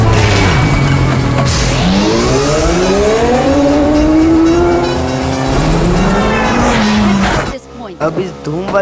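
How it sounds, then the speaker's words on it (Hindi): A motorbike in a battle royale mobile game revs and accelerates, its engine pitch climbing and sweeping over several seconds up close, ending abruptly into gunfire-like bursts and game sounds, with a player talking over it. "अब इस धूम वाली बाइक में मैं जा ही रहा था"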